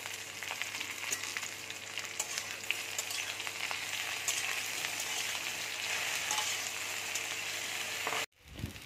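Okra and taro fry together in a pan, giving a dense steady sizzle with occasional light stirring scrapes, holding level until it cuts off abruptly near the end.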